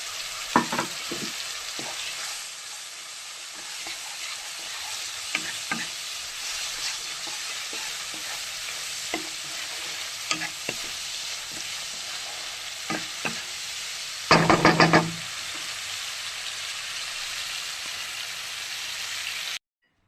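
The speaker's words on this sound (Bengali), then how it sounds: "কাঁচা লঙ্কা টমেটোটা ভালো করে ভেজে নেব" Green chili, tomato and mustard frying in a pan for a fish curry, a continuous close sizzle with scattered stirring scrapes and a louder burst of spatter near the end, no voices.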